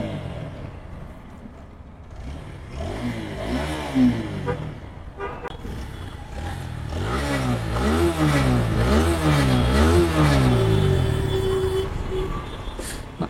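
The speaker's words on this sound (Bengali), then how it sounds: "গাড়ির সাউন্ড তো ভালো আছে, না ইঞ্জিন কোয়ালিটি ভালো আছে।" A used second-hand motorcycle's engine running close by, its mid-pitched throb rising and falling as the revs climb, growing steadier and louder in the second half, with no talking over it.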